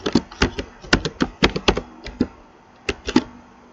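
HTML code is typed on a computer keyboard in quick irregular bursts of sharp, close key clicks, with a brief pause midway before a few more strokes, and no one talking.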